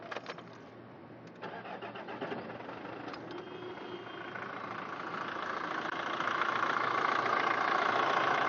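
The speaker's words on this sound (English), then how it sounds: "Start the motor." A diesel engine cranks and catches, then settles into a steady idle that slowly grows louder and rougher over several seconds, heard close with no talk.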